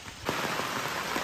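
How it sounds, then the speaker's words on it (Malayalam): Steady rain falling outdoors at a hill site, a dense close patter of drops on surfaces that swells after a brief quieter moment and holds evenly. "നമ്മളിവിടെ എത്തിയപ്പോഴേക്ക് നല്ല മഴ പെയ്തു"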